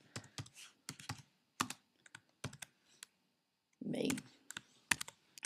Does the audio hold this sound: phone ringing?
no